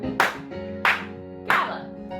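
Three sharp hand claps at an even steady pace during a children's ballet class, with a fourth starting at the end over a background of music.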